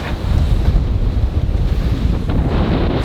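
Strong wind roars across the microphone aboard a sailboat with one reef in the main, gusting toward 20 knots, with a steady broadband rush and the wash of waves and surf close by, and no talk.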